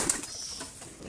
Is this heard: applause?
no